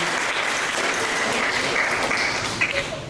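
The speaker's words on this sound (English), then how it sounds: "Give her a round of applause" A studio audience claps steadily and densely for County Commissioner Kelly Semrad of Orange County, applause holding at an even level throughout with no talking over it.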